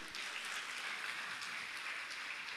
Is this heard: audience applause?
yes